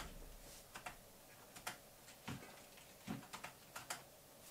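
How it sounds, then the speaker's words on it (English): Repeated presses of the F2 key on a computer keyboard while booting a PC with an unreleased AMD Ryzen CPU, heard as about eight to ten soft, irregular clicks in quick succession over quiet room noise. "I'm spamming F2 on the keyboard to get into BIOS"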